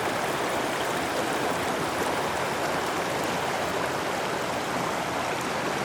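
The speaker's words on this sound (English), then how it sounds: "Just crossed another little fork of Alder Creek" A small fork of Alder Creek flows steadily on a backcountry trail, a loud continuous rush and babble of water close by with no other sounds over it.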